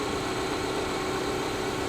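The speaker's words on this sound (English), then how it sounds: "It seems to be idling pretty good." A BMW X6 engine idles steadily with a constant low hum and broadband noise, no changes in pitch over a short stretch.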